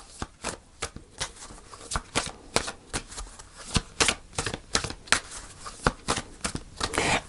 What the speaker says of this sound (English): I'm going to pull a final card.